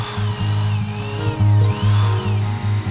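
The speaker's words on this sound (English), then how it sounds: "Then get a spade bit and drill a few pilot holes for the jigsaw." A power drill with a spade bit whines steadily, near and loud, its motor pitch rising and dipping in bursts as it bores pilot holes through wood.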